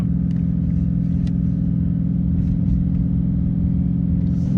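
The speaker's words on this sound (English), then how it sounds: "My shit sounds like a Hellcat, but I know y'all hear this shit. My shit is whining every time I go." A Dodge 392 Scat Pack with a swapped Hellcat engine drives along, its low engine rumble steady and loud throughout, with a faint whine riding over the drone and no talking.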